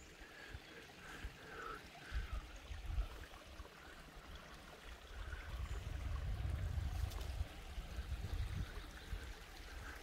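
A brook bending beside a small bridge on a walking trail near Vaumarcus on Lake Neuchâtel gives a steady, soft rushing and gurgling, with a faint birdcall over it and no talking.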